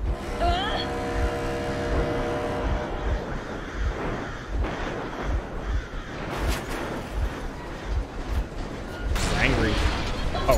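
A vehicle engine runs in Metro Exodus, a low throbbing drone with regular pulses that continues steadily beneath people talking.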